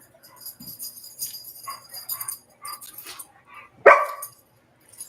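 Dogs barking indoors: scattered close yips, whimpers and small barks rise and fall, then one loud, sharp bark breaks out near the end, followed by quiet.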